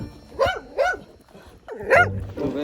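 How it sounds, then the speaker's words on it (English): Wild dogs on a mountain trail in Mexico bark in several sharp, rising yelps, close and fairly loud, with a short pause between bursts. "Wild dogs, who were about to bite and attack."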